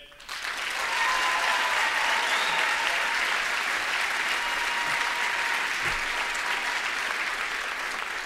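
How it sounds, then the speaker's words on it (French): A large crowd at a French pride week event in New Brunswick gives sustained applause for Dominic Cardy: a dense, even roar of clapping that rises quickly and holds steady, loud, with no talking over it. "J'aimerais qu'on donne une bonne main d'applaudissement à Dominic Cardy"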